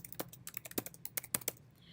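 Keys clacking on a computer keyboard as an email address is entered, a quick irregular run of close, crisp taps with brief pauses and no talking.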